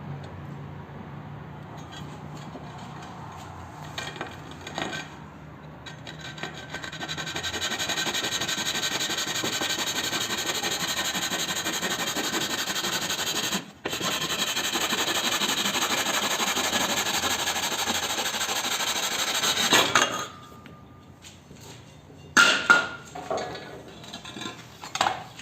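Steady rasping strokes of a hand saw cutting through wooden cornice molding at an outside corner for several seconds, near and fairly loud, stopping with a few light knocks and clatters.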